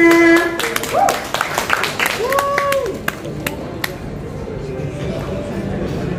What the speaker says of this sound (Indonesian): Boleh minta tepuk tangannya.